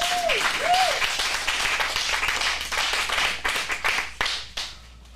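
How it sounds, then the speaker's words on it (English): Audience applause at an adult acting studio script showcase in Phoenix, a steady burst of clapping from a small crowd that thins into scattered claps and fades, with a brief voice at the start. "Let's get a round of applause for our next performer"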